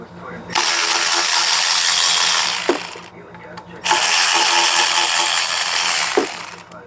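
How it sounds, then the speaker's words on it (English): Ratchet loosening the oil pan bolts on a Corvair engine from a Fitall 110, heard as two long, loud bursts of rapid clicking separated by a short pause. "we're going to pull the oil pan off and see what surprises are in the oil pan"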